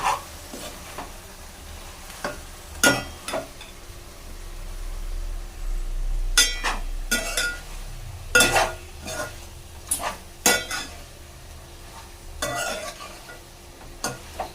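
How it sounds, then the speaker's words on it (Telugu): Spicy chicken curry stirred in a pot after chili powder goes in: a spoon scrapes and knocks against the pot in scattered, uneven strokes over a faint, continuous sizzle. "సో కారం యాడ్ చేసినాక కలుపుకోండి ఫ్రెండ్స్ కొంచెం"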